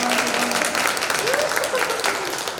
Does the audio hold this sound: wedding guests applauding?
yes